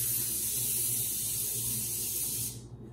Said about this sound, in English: Spray it all in there.